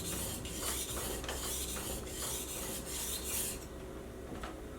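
A knife edge stroked back and forth across a finer sharpening stone: a steady run of close, rasping scrapes in an even rhythm, roughly eight strokes, with no talking.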